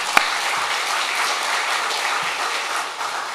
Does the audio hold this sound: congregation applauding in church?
yes